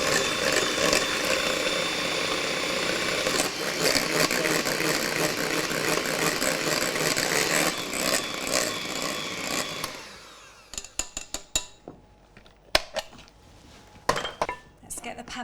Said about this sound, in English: I'm going to whisk this together with an electric whisk till it's nice and thick and creamy.